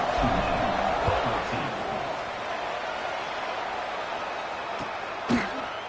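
Stadium crowd in College Football 26 keeps up a steady, dense buzz of broadband noise, with a few brief thumps and a louder burst near the end.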